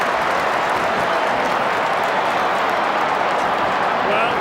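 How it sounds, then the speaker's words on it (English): Dense roar of a huge crowd at an Australian football match between Essendon and Collingwood at the MCG, a steady wash of noise running throughout with commentary over it. "Monstrous crowd here at the MCG"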